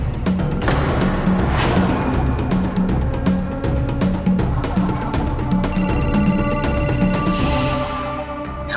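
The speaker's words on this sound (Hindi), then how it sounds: "समझी जी का फोन।" A telephone rings in a domestic setting in an Indian crime drama, a repeating electronic ring pattern running steadily through the clip over background music and room noise, fairly loud and without any talk.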